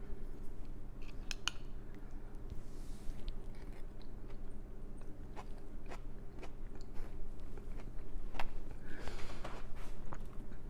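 Spoon scrapes and soft chewing over a bowl of curry vegetable soup garnished with cilantro, small irregular clinks and mouth sounds close by over a steady low background hum.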